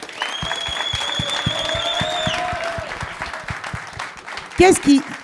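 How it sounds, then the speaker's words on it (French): Audience applause at a French community event in Corbeil, sparse clapping under a drawn-out whistle and crowd noise, with a loud voice briefly breaking through near the end. "eux ils méritent un tonnerre d'applaudissements juste pour ça."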